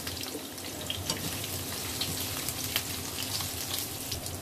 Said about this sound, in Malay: Tumis sebentar aja.